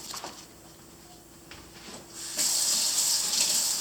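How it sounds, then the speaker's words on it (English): Tap water running to water a freshly repotted houseplant, a quiet trickle at first that swells into a steady, louder rushing flow, with no voices. "I'm just going to give it a little bit of water."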